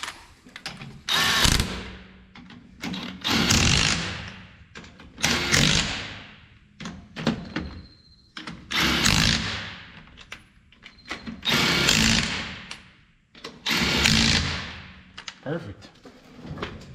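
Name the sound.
snugging wheel lug nuts on 2006 Silverado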